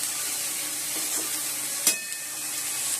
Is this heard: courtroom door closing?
no